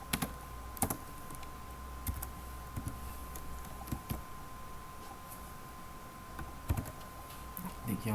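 Someone types code on a computer keyboard in an irregular run of soft, close clicks and sharper keystrokes. The typing is quiet, nobody speaks, and a faint steady hum runs underneath.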